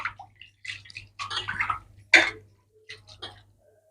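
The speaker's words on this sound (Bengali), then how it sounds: "পানি পাল্টে আবারও ভালো করে ধুয়ে নেব এইভাবে, যাতে আলুর কষটা সব চলে যায়।" Water splashes and sloshes in short bursts as raw potatoes are swished around and washed in a basin, with quiet pauses between.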